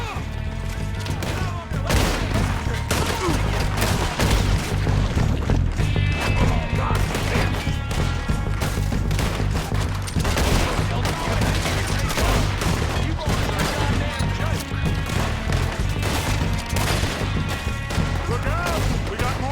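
Sustained gunfire in Red Dead Redemption 2 during a firefight around buildings and cabins, with dense overlapping shots and impacts at a steady loud level throughout, a game soundtrack running underneath and shouted voices mixed in.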